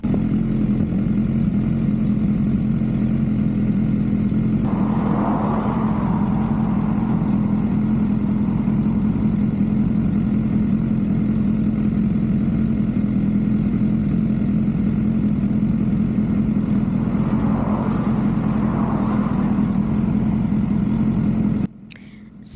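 A BMW S1000R motorcycle engine idles steadily for a long stretch, a low even burble with a couple of brief blips in pitch, near and continuous.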